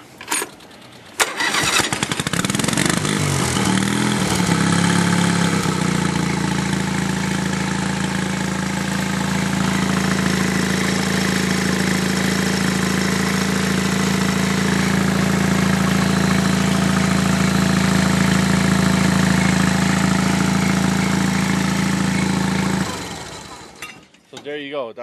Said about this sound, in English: I'm going to show you the Honda. I'll fire it up for you.